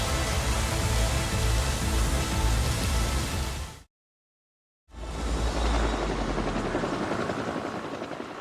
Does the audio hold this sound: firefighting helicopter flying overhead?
yes